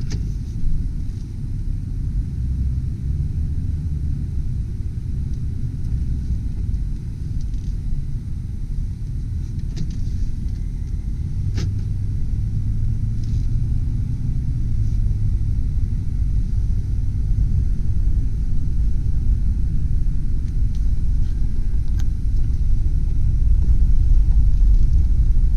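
A 1998 Lincoln Town Car Executive on a test drive, heard from inside as a steady low engine and road rumble that builds gradually, with no talking.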